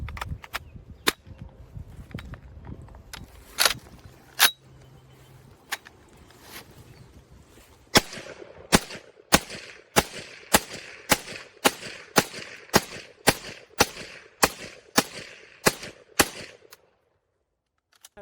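M1 carbine, a .30 caliber rifle, fired in a quick run of sharp, loud shots, irregular at first and then a steady rapid string of about a dozen cracks, with no talking.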